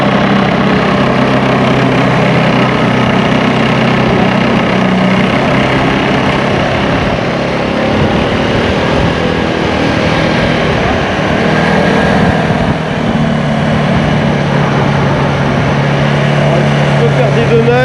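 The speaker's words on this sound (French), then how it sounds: "Je crois que c'est un moteur de scooter." A one-of-a-kind drift slide kart powered by a scooter engine runs steadily with a loud, droning buzz that holds throughout, while people talk over it.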